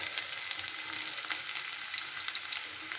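A dried red chilli frying in oil gives a soft, even sizzle with scattered tiny crackles throughout, heard fairly faintly and without any speech.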